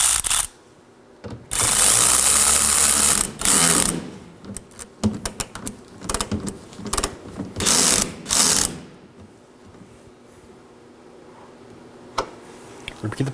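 Hand ratchet snugging a 10mm screw on the rear bumper impact absorber of a 2014-2019 Nissan Sentra: bursts of rapid clicking pawl strokes, close and fairly loud, with pauses between strokes and a few lone clicks toward the end.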